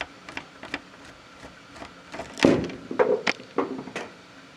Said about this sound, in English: So we'll take all these screws out here.